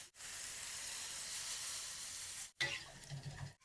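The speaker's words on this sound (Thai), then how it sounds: "พอหมูเซตตัว ส่งกลิ่นหอมทั่วแล้วก็ใส่น้ำเปล่าครับ" Plain water added to pork frying in curry paste for a jungle curry with eggplant, giving a sustained close hiss and sizzle that cuts off abruptly, followed by a brief bubbling rattle.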